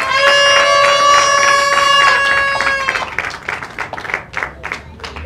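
A wedding congregation applauds the couple. A loud, sustained high held tone comes first, then irregular bursts of clapping that grow sparser and fade.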